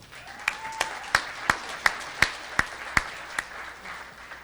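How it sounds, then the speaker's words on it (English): Sparse, rhythmic clapping at an event, sharp individual claps spaced evenly about every third of a second over a quiet room background. "Let's give them another big round of applause."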